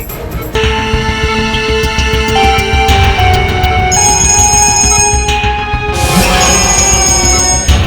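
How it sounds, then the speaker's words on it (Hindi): A phone rings insistently with sustained, bright electronic tones that repeat in bursts, loud and close, with no voices. "डीसीपी चित्रोले साहब का बार बार फोन आ रहा है।"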